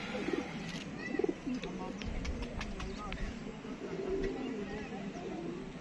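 Pigeons coo softly from a rooftop in Gujranwala, low bubbling calls mixed with a steady outdoor hum, while someone talks over them.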